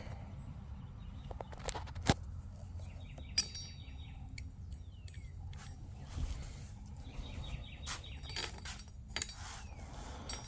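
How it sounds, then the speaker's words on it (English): Faint, scattered bird chirps outdoors with short high calls and sweeps over a low background rumble, plus a few sharp metallic clinks from work on a Fox Body Mustang. "I can hear the birds chirping."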